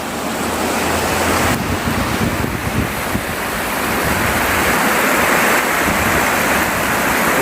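The Dulung river in Jhargram flows beneath a small bridge with a roadway on top, a loud, continuous rushing wash of water blended with heavy wind buffeting on the microphone.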